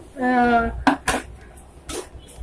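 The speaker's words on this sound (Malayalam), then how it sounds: "ഈ പാത്രങ്ങൾ ഞാൻ ആദ്യം എന്നും ചെയ്യുന്ന പോലെ സോപ്പ് ഇട്ട് വെക്കട്ടെ." Dishes and pots clattering at a kitchen sink while being soaped for washing, a few sharp clinks and knocks after a brief voice, close and fairly loud.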